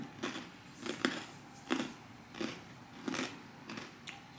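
Sharp crunchy bites of pretzels repeat at irregular intervals, about six of them, close and fairly quiet, with no talking.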